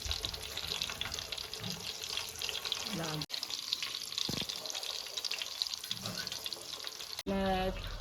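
Chicken cutlets fry in hot oil turned down to a low flame, giving a steady, fairly quiet sizzle and crackle throughout, with a few brief clinks and a short pause partway, and a louder burst near the end.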